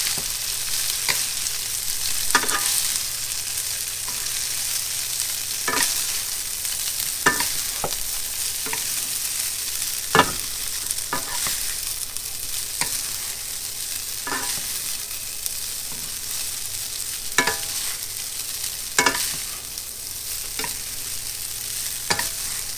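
Eight jewelled fried rice, about four cups of cooked rice in three tablespoons of oil, sizzles steadily in a hot pan while being tossed, with sharp scraping and clattering stirs recurring every second or two over a constant close hiss.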